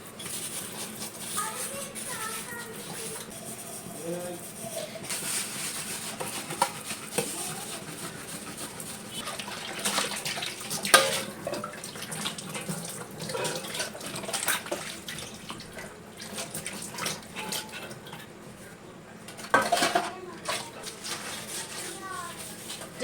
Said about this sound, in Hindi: और चावल चढ़ा के अब मैं धोती हूँ बर्तना।